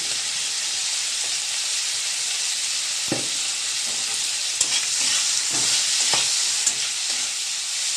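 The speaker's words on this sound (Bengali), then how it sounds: "একটু হিং ফোড়ন দিলাম" Asafoetida tempering sizzles in hot oil alongside fried prawns in a pan, giving a continuous close hiss with a few sharp crackles and pops scattered through.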